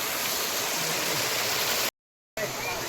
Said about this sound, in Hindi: देखो कितना पानी निकल रहा है।